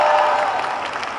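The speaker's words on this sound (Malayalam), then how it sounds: "ഇഷ്ടപ്പെട്ടെങ്കിൽ വലിയ കൈയടിയാണ്" Steady, dense applause from a large audience at a film trailer launch event, loud and continuous for the whole moment with no break, a little crowd noise mixed in.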